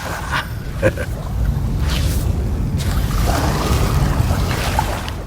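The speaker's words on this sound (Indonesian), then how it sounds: "Hanya ditemani angin laut di malam yang gelap dan deburan-deburan ombak" Sea waves and sea wind at night make a continuous breathy wash with rolling surf, plus a few brief splashy knocks near the start, heard up close.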